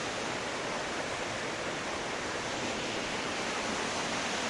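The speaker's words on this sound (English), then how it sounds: "We can see a little bit of the waterfall in here" A small waterfall out in the wild pours with a steady, dense rushing roar that fills the whole moment without pause; no voices are heard.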